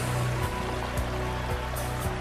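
Water from a renovated pondless waterfall runs steadily down a reconfigured stream, a continuous close rushing and splashing wash with a few soft gurgles and no voices.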